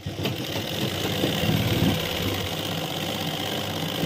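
A sewing machine runs steadily, stitching along the zipper fly of a pair of pants, with a continuous motor hum and no pauses for the whole stretch.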